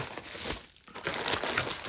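Continuous crinkling and rustling of a plastic packing bag from a new RC car kit being handled up close, with a brief lull midway before the crackling resumes.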